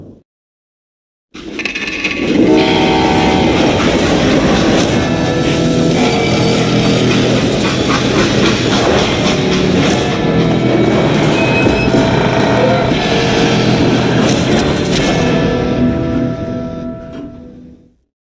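A freight train rumbles loud and steady in a Call of Juarez Gunslinger game scene, rising suddenly from silence into a dense, continuous rolling clatter that holds for about fifteen seconds before cutting off.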